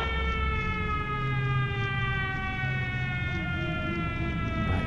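A long, loud, steady siren wail from the Siren Head creature in a forest horror video game, droning without a break over low ambient rumble.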